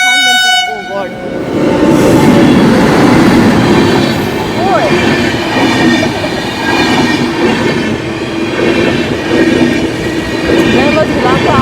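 Train rolling along a railway track, opening with a short horn blast and then a loud, steady rumble and wheel clatter close by, with faint voices underneath.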